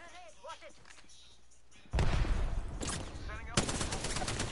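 Video-game gunfire in rapid bursts, loud crackling volleys starting partway through after quieter talk, with voices speaking over and around the shots.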